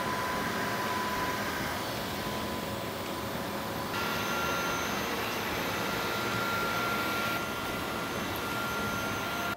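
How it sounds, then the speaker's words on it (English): A Dreametech Bot L10 Pro robot vacuum running while mopping, a steady close whooshing hiss with a constant motor drone, shifting slightly in pitch and intensity a few times but never stopping. "Overall, a great robotic vacuum for the price."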